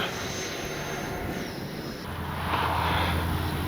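An E-flite 90mm Viper RC jet's turbine spins up outdoors as a continuous loud roar that swells slightly toward the end, with wind buffeting the microphone.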